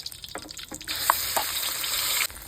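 Cumin seeds and garlic paste hit hot oil for a Bombay duck curry, a sudden loud sizzle with spattering pops, close by, with light clinks just before.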